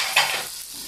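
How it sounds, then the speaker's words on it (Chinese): Chopped scallions hit hot oil in a wok over low heat for a Northeastern Chinese zucchini and soybean-paste stir-fry, giving a brief sharp sizzle that fades to a soft crackle. "现在呢先把这个葱下锅啊"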